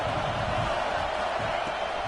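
Continuous crowd noise from a virtual college football stadium in an EA game, Nebraska at Michigan, a steady, even roar of cheering fans on third down with no clear peaks.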